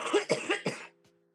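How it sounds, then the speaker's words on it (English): A person coughs three or four times in quick succession after using a vape, close and fairly loud, then a short quiet tail. "What's making you cough?"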